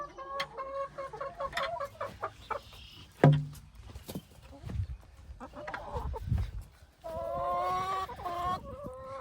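Farm chickens cluck and chatter nearby in short, irregular bursts at feeding time, with a few thumps and rustles between calls and a louder run of clucking at the end.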